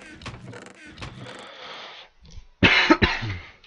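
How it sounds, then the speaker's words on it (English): A person coughs during a Minecraft play session, first with muffled throat sounds and then two sharp, loud close-up coughs near the end. "Pardon me if I had to cough there."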